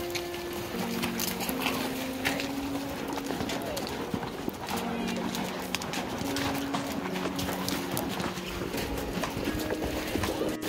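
Steady clip-clop of horse hooves along a trail during a horseback ride near Banff, with faint voices and outdoor background throughout.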